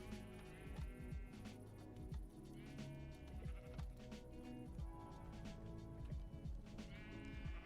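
Sheep bleat in the Minecraft video game, repeated in-game calls over a dense, steady bed of game music and ambient sound, with no one talking.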